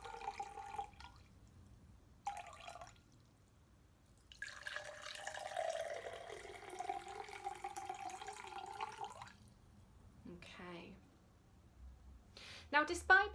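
Water is poured into cups in bursts, with trickling and a rising fill tone, amid quiet intervals and brief talk.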